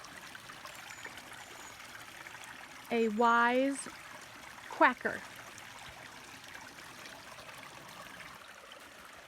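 Creek water flows over rocks in a steady, low rushing trickle close by, running continuously beneath a short burst of speech from a couple of people.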